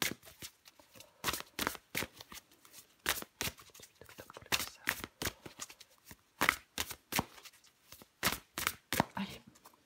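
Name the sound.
shuffling and drawing oracle cards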